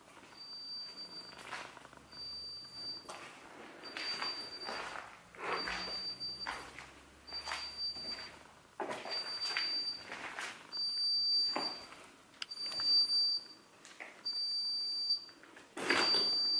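Inside an abandoned church in Italy, an alarm gives repeated short, high-pitched beeps in a steady pattern, with occasional thumps and footsteps echoing between them.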